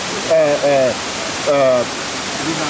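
Fuller waterfall in Ghana, a steady broadband rush of falling water heard nearby and continuous, with a person talking over it in short bursts.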